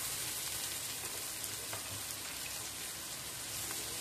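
Mushrooms sizzle and fry steadily in a pan of spaghetti sauce for scallopini, a dense, continuous crackle with scattered pops close up and no talk.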